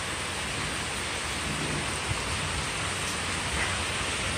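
Steady heavy rain hisses across the whole clip, with faint low rumbles of distant thunder beneath it.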